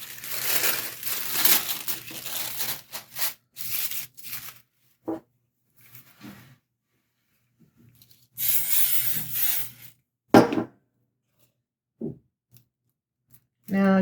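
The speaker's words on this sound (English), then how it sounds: "I covered the bottom with the spray adhesive." Spray adhesive hissed onto a tissue-paper-covered gift box in several sharp bursts of varying length, close and loud, separated by quiet gaps with brief handling and voice sounds.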